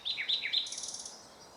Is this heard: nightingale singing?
yes